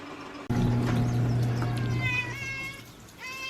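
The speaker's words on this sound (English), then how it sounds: "feed the cat." A pet cat meows at close range indoors, giving a few drawn-out, rising calls at feeding time. A lower, steady hum runs underneath the first half.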